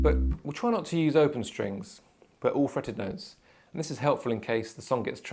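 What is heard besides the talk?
No distinct noise like a dog, phone or traffic.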